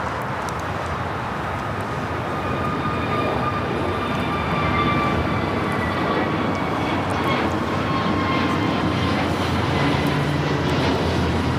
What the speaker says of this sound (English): This is the Dreamliner coming in from London Heathrow